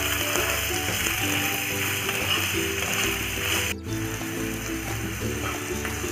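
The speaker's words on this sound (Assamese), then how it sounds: "পিয়াজখিনি আমি ৰঙচুৱা হোৱালৈ ফ্ৰাই কৰিম।" Onions fry in a pan for pulao, giving a steady close sizzle with a faint whirring, mechanical-sounding hum underneath and a brief dip midway.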